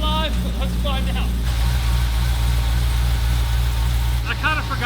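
A car engine, newly started, runs at a steady low idle for the whole stretch, close and fairly loud, with voices speaking over it at the start and again near the end.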